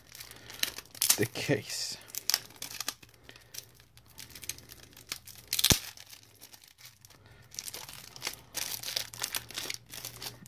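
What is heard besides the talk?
unwrapping plastic packaging from a compass case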